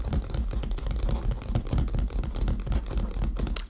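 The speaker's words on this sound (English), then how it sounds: "I'm gonna do just a little bit of tapping like I would on a keyboard" Fingers tap rapidly and steadily on a surface as if typing on a keyboard, picked up close and loud by a Fifine Ampligame A8 USB microphone mounted on its shock mount, a dense clattering run with no talk.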